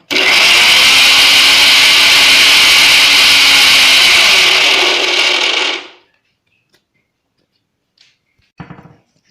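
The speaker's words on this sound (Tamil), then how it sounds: "ஸோ இன்னும் நம்ம வந்து அரைக்கணும் இன்னும் நல்லா அரைச்சிக்கலாம்" Electric mixer grinder whirring steadily as hibiscus flowers are ground into a paste, a loud continuous high-pitched drone for about six seconds that cuts off abruptly, followed by a few faint knocks.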